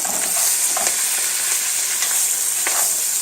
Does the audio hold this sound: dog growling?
no